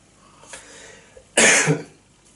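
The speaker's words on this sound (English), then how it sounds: "Still recovering a little bit from this cough that I had." A single harsh cough bursts out close by after a faint breathy sound, then trails off into quiet.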